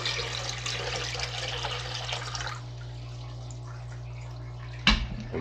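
Green water poured from a cup into a Daphnia culture makes a steady close splashing wash that runs for about two and a half seconds, then fades to a quiet hum, with one short knock near the end.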